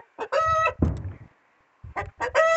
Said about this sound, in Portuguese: As galinhas estão cantando aqui, tá colocando ovo.